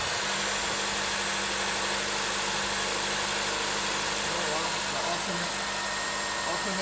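A car engine idles smoothly and steadily after a misfire repair, a constant close hum with no breaks or stumbles.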